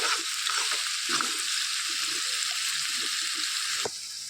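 Chopped onions and green chillies fry in a pan with a steady, close hiss of sizzling oil, sometimes broken by a soft stir or scrape, and no voices.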